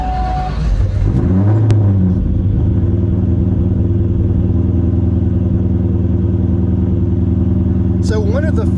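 A 2003–04 Terminator Cobra fitted with aftermarket cams idles close by with a loud, steady, throbbing rumble that holds evenly throughout.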